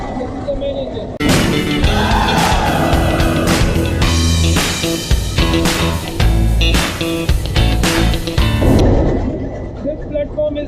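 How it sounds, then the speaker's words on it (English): A ship's main engine running in the engine room, a loud, heavy mechanical roar with deep rumbling and clattering knocks, swelling in suddenly and holding steady before easing off near the end. "This is the main engine."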